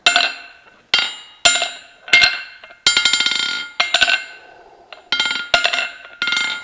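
Sharp metallic titanium hammer blows ring out on hot steel from a 1912 train rail being forged, about nine strikes in an uneven rhythm, each bright and clanging with a short ringing decay.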